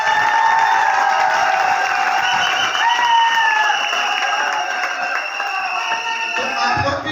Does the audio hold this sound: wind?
no